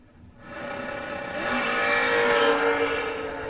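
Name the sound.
Chevrolet Camaro drag race cars accelerating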